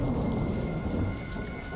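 Heavy rain pours steadily with a deep rumble of thunder beneath it in a Call of Duty Modern Warfare II mission, loud and continuous with no voices.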